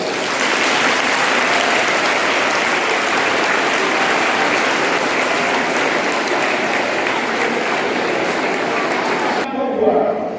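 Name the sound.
audience applause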